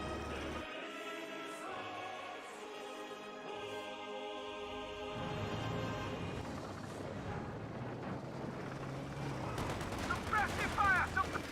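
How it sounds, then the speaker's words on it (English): Soviet Guards infantry in Company of Heroes 2 fire DP light machine guns and PTRS anti-tank rifles, a steady stream of battle gunfire and shots under a layer of music and game noise, growing busier toward the end. "Guards with DPs and PTRS is firing away."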